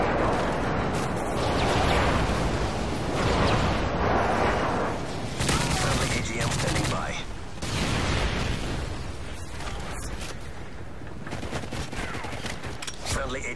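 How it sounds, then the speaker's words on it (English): Rapid bursts of gunfire and booming explosions from a multiplayer Call of Duty Modern Warfare 3 match, loud and chaotic in overlapping waves, with faint game chatter in between. "Friendly airstrike on the way."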